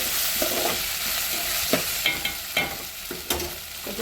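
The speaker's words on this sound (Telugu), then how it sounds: "అల్లం వెల్లుల్లి పేస్ట్ వేసుకొని" Ginger garlic paste fries in a pan for bitter gourd pulusu, giving a close, steady sizzle broken by several sharp scraping stirs of a spoon against the pan.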